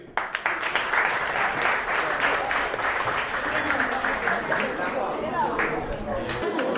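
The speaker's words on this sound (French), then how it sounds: "Veuillez l'applaudir." An audience at a school quiz competition final in Mboro applauds steadily and loudly throughout, a dense wash of clapping with no pauses.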